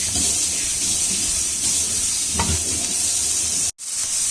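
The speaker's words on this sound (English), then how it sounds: "I've added the capsicum as well. Fry it for 5 to 7 minutes." Capsicum fries in a pan for bread toast, giving a loud, constant sizzle and hiss with an occasional stir, then a sudden brief dropout near the end; close and without speech.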